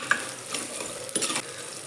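Onions sauté in a clay pot for a dry fish curry, giving a soft, close sizzle broken by brief scraping stirs, with no talking.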